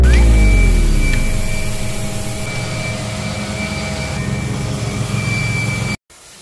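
Carpet cleaning machine running at about 400 PSI with cleaning agent and deodorizer, a loud steady mechanical drone and whine that starts with a surge, holds evenly for six seconds, then cuts off abruptly.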